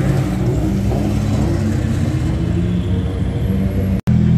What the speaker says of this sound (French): Il y a la classe S qui déboîte de tout à l'heure.